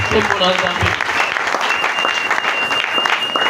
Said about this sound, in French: Est-ce qu'on peut acclamer pour ces Jésus?